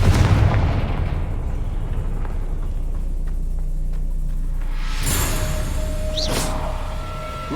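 A Confringo blasting spell explodes in Hogwarts Legacy with a heavy, sustained boom and rumble, followed midway by a sharp burst and a crackling whoosh.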